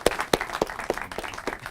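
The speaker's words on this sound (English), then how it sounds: "Can we give him a warm applause?" Sparse, evenly spaced handclaps from a small audience at a European film series introduction, a handful of separate claps rather than a full ovation, with no talking.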